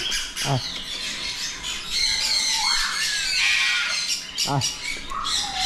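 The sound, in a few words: big bird squawking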